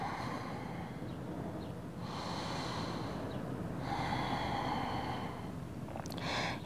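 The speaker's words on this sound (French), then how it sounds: "on prend quelques respirations lentes et profondes" Slow, deep breathing during a yoga session, with long airy inhales and exhales rising and fading in steady waves, close and soft against a light background hiss.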